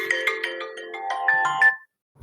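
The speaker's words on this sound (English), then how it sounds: "that's my phone telling me to shower" A phone alarm ringtone plays a reminder, a quick chirpy melodic pattern of repeated bright tones, fairly loud and close, ending abruptly before a brief low sound.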